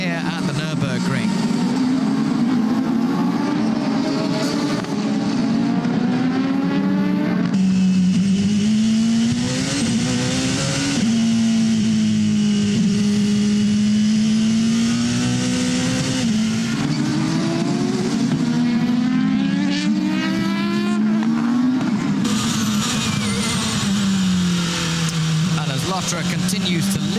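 Race cars at the 6 Hours of Nurburgring roar past continuously, a loud engine note rising and falling through gear changes and passes, with commentary talk running over it throughout.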